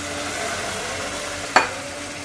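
Rava (semolina) for pineapple kesari is stirred in a pan with hot water, giving a steady soft sizzling hiss. A single sharp clink of a utensil against the pan sounds near the middle, close, with no talking.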